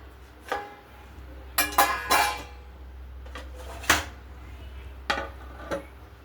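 Lids are set over bowls of cooked rice and fried dishes in a home kitchen: a scattered series of sharp clinks and clatters, a few quick clusters between quieter pauses.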